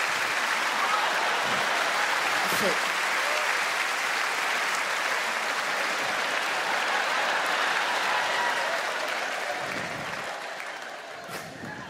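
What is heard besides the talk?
audience applause at a live comedy show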